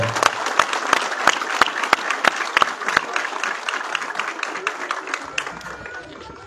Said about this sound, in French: je voudrais que tout le monde applaudisse pour lui